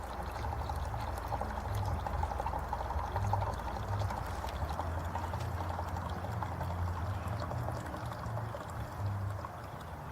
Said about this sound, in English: now let's pour the coffee in